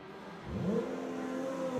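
A Lotus Cup race car accelerating during qualifying at the Nürburgring, its engine note rising steadily as it pulls away, heard at a moderate distance without talk.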